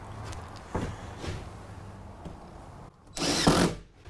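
Power drill driving screws through ceiling panels inside a cargo trailer being converted to a tiny home, with a few short whirring bursts and then one longer, louder drive close by, under faint room noise and with no talking.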